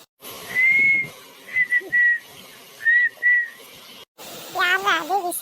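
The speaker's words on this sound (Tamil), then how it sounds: "யாரா அது விசில் அடிக்கிறது?" A person whistles a few short, clear tonal phrases with brief pauses between them, near and loud, followed by a voice speaking at the end.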